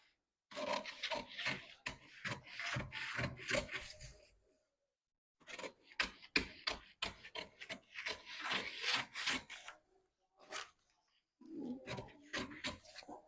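Scissors cut through blouse fabric in quick, crisp snipping runs. Several bursts of cutting come close up, separated by short pauses, with no talk over them.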